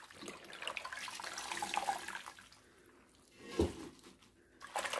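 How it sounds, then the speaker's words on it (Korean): Salted napa cabbage being rinsed once in water to wash off the brine for water kimchi, with splashing and running water sloshing nearby, broken by a sharper splash and a brief pause. "절여진 배추 건져서 이렇게 한 번만 헹궈 주겠습니다."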